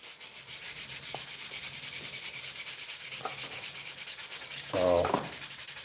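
Steady back-and-forth rasp of sandpaper scrubbing a lobster buoy, an even rubbing rhythm close by, broken near the end by a short louder scrape.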